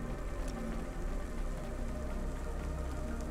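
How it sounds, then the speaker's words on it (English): Rain falls steadily over a city in a video game, a faint, even patter and hiss running throughout with no voices. "It is always raining."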